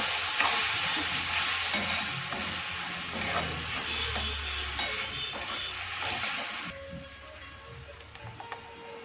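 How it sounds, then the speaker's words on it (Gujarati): Curd-based masala sizzling and frying in a pan with okra for dahi bhindi, a steady hiss with stirring clicks close by, the sizzle easing slightly near the end. "જે દહીંનો મસાલો કર્યો છે તે હવે ઉપરથી આપણે નાખી દઈશું."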